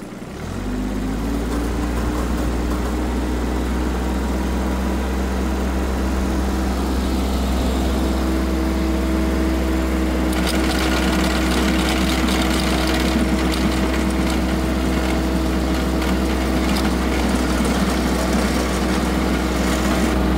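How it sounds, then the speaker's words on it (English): Garden tiller engine starting up and running steadily while tilling green growth in a field, a loud, close, continuous low engine drone with a constant hum throughout. "we're getting the tiller ready here. Getting ready to put in gear. We're gonna till up this green stuff."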